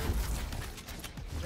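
A weapon reloading in the shooter game Valorant gives a quick run of short mechanical clicks and ratcheting clacks, close and fairly steady over a low rumble.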